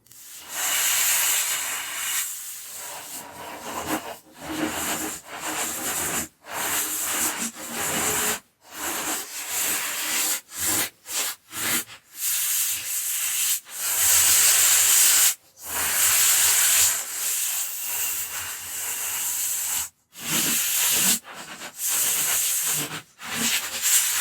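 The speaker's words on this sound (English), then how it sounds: "we're going to give these sanding by hand" Sandpaper rubs on small wooden pieces in steady, loud scratchy strokes, broken by frequent brief pauses, close up and continuous.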